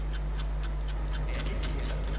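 A ticking explosive counts down in the Sniper Elite V2 video game, a steady run of sharp, evenly spaced ticks over a constant low hum, close and fairly loud, with no talk.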